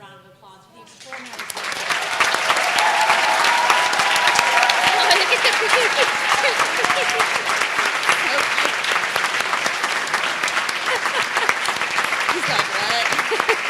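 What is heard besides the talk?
audience applause at residency graduation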